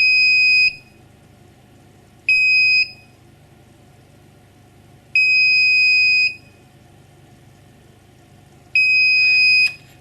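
A Double Alpha magnetic powder checker sounds its alarm in four separate bursts of steady, shrill electronic tone. Each lasts about half a second to a second and a half, with quiet gaps between.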